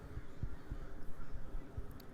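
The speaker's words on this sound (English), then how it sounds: "A lot of crows and ravens out here." Crows and ravens cawing outdoors, a few short harsh calls spaced irregularly at moderate distance over a low wind-like background.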